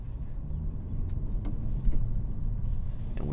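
A Lexus LC 500 convertible is driven with a steady, low engine and road rumble that swells and eases slightly, with no talking.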